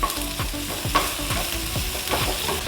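Chopped onion, tomato and green chilies being sautéed in a pan give a sizzling hiss broken by regular scraping stirs of a spoon, roughly two or three strokes per second, close and clear.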